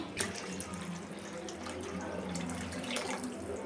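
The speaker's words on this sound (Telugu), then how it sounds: "కొన్ని వాటర్ కూడా యాడ్ చేసుకోవాలి దీంట్లో" Water pours steadily into a fish curry pan in a continuous stream, close by, with faint clinks and no talking.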